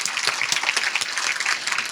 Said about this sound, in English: Let's give the judges a round of applause for the wonderful job they are doing.